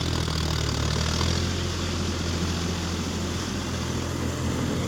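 A Leo Bengal 72-blade rotavator driven by a John Deere 5050D tractor, a steady broadband engine drone mixed with churning blade noise that stays continuous and fairly loud throughout, with no talking.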